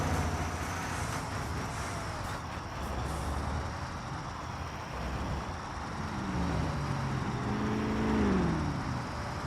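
A worn truck in bad condition drives steadily in the video game Construction Simulator, its engine droning low and even, then revving up with a rising tone near the end, fairly quiet with no voices.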